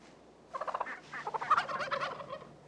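A wild turkey gives a fast, rattling gobble, a burst of warbling notes lasting about two seconds, fairly close against a quiet background.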